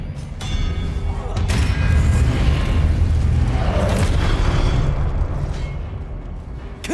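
Expelliarmus spell cast in Hogwarts Legacy, a loud booming burst with a rumbling low body and sharp crackling onsets, sustained for several seconds before fading slightly.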